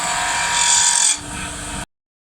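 A woodturning chisel rolling outward to cut a bead on a spinning wooden spindle on a lathe, a close, steady scraping hiss that eases partway through, then stops abruptly.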